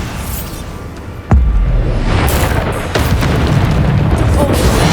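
Bombarda spell explosion during a boss fight in Hogwarts Legacy, a sudden loud boom with a low rumbling tail, followed by a second burst and dense continuing battle noise and effects.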